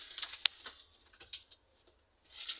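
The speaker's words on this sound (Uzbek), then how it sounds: "Bu o'yinchi kaptar." Tumbler pigeon in a home pigeon loft, giving soft, faint coos and a brief flutter-like burst, with quiet pauses between calls and no voices.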